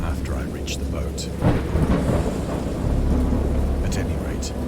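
A wild thunderstorm rumbles with deep rolling thunder over steady heavy rain, loud and close, the thunder swelling twice across the few seconds.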